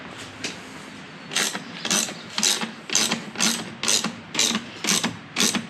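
A ratchet tightens a lower subframe bolt on a 2020 KTM motorcycle, its pawl clicking in a steady series of about nine even bursts, close and clear with no talking.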